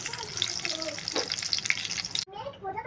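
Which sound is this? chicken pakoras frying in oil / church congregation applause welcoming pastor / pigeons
chicken pakoras frying in oil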